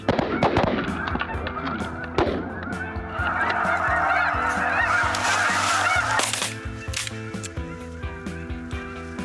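A flock of snow geese honks overhead while circling during a hunt in Arkansas, a loud, dense chorus of overlapping calls that eases off toward the end, with a few sharp clicks and no talk.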